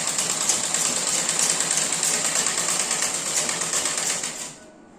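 A sewing machine runs in a fast, even rhythmic chatter while stitching a kurti at home, steady and close, then winds down and stops just before the end.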